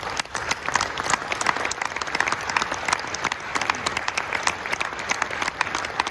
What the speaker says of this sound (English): I think we should give all the team elites a big round of applause